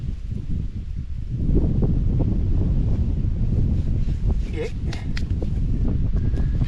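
Gusty wind buffets the microphone with a loud, low rumbling roar that swells and fades unevenly throughout.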